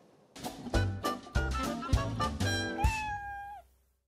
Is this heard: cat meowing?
yes